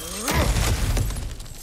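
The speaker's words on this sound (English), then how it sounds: "back to smashing through things for fun and profit" A loud, close smash in God of War Ragnarok as Kratos breaks through an object, a sharp crack followed by a scattering shatter of debris that fades over about a second.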